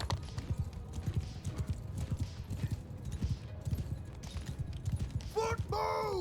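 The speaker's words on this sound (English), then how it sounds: "Oh, it's a lot of horse archers." Horses gallop in a steady clip-clop of hooves during a Mount & Blade II: Bannerlord battle, with a horse whinnying near the end over a busy background.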